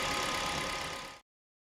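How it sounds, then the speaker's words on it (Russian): A 2014 Kia Ceed 1.6 engine with 156,000 km settles into a steady, close idle, its slightly noisy alternator adding a faint whine, before the sound cuts off abruptly after about a second. "Немножко пошумливает генератор, но 156 тысяч пробега для него немало."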